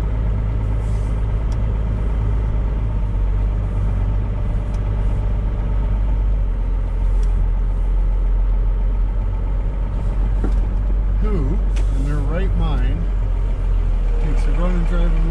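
A Cummins diesel engine from a scrapyard runs at a steady loud idle with a deep, constant rumble close by, while people talk over it in the later part.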